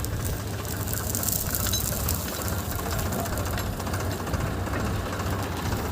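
A wheat harvester's cutter engine runs steadily nearby in a field, a dense continuous mechanical drone with a knocking, vibrating texture and no pauses.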